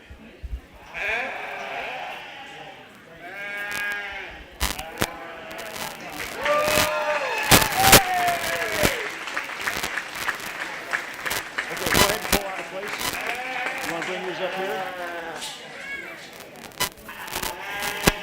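Sheep and lambs, including white and Blackface ewe lambs, bleating repeatedly at a 4-H/FFA livestock show, with overlapping calls near and far over crowd murmur and talk, plus brief sharp knocks.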